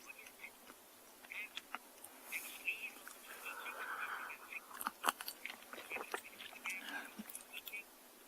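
A wild elephant at sunrise on safari chewing and cracking roots nearby: irregular crunches and snaps, soft grinding in between, a few sharp cracks standing out, faint insect buzz in the background.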